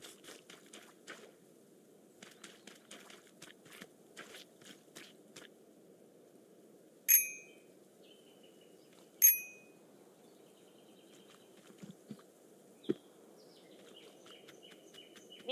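In Untitled Goose Game, bells ring out twice as bright, sharp chimes that hang briefly, after a run of soft pattering steps over a quiet background hum, with a couple of small knocks afterward.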